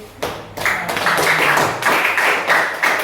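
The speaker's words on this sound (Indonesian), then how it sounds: "kita berikan tepuk tangan untuk" A classroom group gives applause during a lesson, with steady, moderately loud clapping from many hands running for about three seconds after a brief pause.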